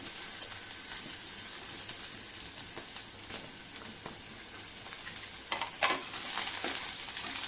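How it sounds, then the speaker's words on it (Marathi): Onion browning in a spoonful of oil in a pan, a steady close sizzle with crackling pops and occasional stirring scrapes, continuous throughout with no voices. "मी आता याच्यामध्ये एक चमचा तेल टाकलं आहे याच्यामध्ये आपण कांदा तांबूस रंगावरती भाजून घेऊया"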